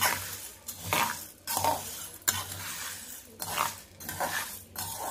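Urad dal roasting in a pan, stirred with a metal spoon: repeated scraping strokes and clinks against the pan over a low sizzle, close and steady.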